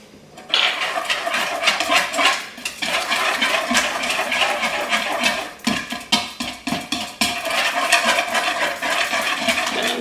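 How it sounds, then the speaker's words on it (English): A small whisk beats banana muffin batter in a bowl, a busy run of quick scraping and clinking strokes that is close and steady, broken by a couple of brief pauses, with no talk. "So have this little whisker thingy. And I'm just gonna mix that."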